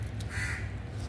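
A crow gives a single brief caw outdoors among fruit trees, moderately close, over a low rumble of background noise.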